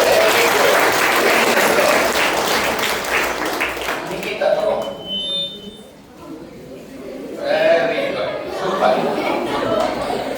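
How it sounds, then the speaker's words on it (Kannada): A school audience at a government school program claps loudly in a long burst, fades briefly, then breaks into a second round of applause, with chatter and voices mixed in. "ಜೋರ್ ಚಪ್ಪಾಳೆ."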